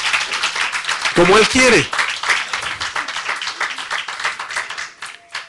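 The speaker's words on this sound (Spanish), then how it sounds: "Denle un aplauso al Señor." A church congregation claps during a sermon in a busy, ongoing patter of many hands. The preacher keeps talking loudly over the applause, which continues until it fades near the end.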